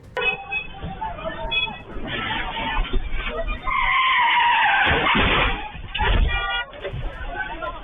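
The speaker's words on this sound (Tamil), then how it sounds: "சாலையில் அதிவேகத்தில் சென்று கொண்டிருந்த காரானது திடீரென கட்டுப்பாட்டை இழந்து நான்கு பேர் மீது பயங்கரமாக மோதியது" A speeding car loses control on a road, skids and crashes into people before breaking through a roadside barrier wall and overturning into a ditch. Loud tyre screeching swells over a noisy commotion, with voices and some babble around it.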